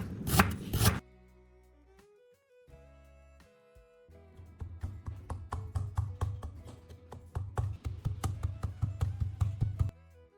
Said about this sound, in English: slice it thinly and put it into a mortar or a blender to grind it finely